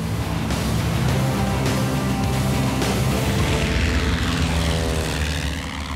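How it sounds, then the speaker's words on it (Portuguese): A propeller airplane flies overhead at a Yukon gold mine, its engine drone a loud, steady broadband roar with a throbbing low hum that slightly fades toward the end. "é o nosso avião."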